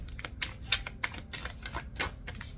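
Rapid papery riffling bursts repeat in an uneven rhythm, close and crisp, like a deck of cards being shuffled over and over.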